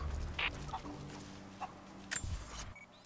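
Chickens clucking in the video game Rise of the Tomb Raider, a few short scattered clucks and calls, fairly faint, over a low ambient game background with no talk.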